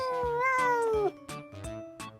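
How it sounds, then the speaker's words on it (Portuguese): A cat gives a clear, drawn-out meow with a falling pitch, followed by a few shorter, softer mews, close and with no voices over it. "gato! Vamos imitar o gato juntos, crianças?"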